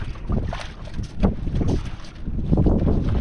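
The northeast amihan monsoon wind gusts strongly against the microphone, a rumbling, buffeting roar that rises and falls in waves, heard alone without speech.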